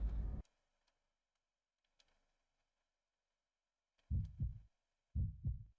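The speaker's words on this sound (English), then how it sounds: "we got our heartbeat" Heartbeat effect from the video game Cold Fear: a few low, thudding double pulses, one at the start and two pairs near the end, loud and close, separated by near silence.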